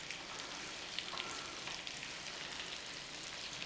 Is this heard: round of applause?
no